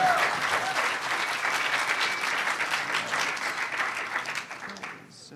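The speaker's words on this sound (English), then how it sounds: "Give him a round of applause." Audience applause for a presenter at a lightning-talk session, a dense, steady wash of many hands clapping that holds for several seconds before thinning and fading out at the end.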